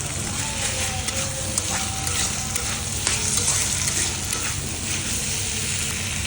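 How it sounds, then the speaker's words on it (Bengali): Washed tomatoes and potatoes go into a well-fried spice paste with chilli powder for a rohu fish tomato curry, giving a loud, continuous close sizzle with stirring scrapes throughout and no talking. "এখন আমি এই যে ধুয়ে রাখা টমেটো আলুগুলো দিয়ে দিব"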